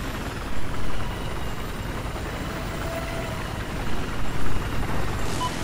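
A low, rumbling transport helicopter engine in the video game Battlefield 4 churns steadily with a throbbing rotor texture, swelling slightly louder in a few spots, no voices present.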